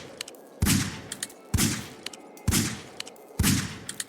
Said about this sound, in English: I'm gonna shoot him a couple times.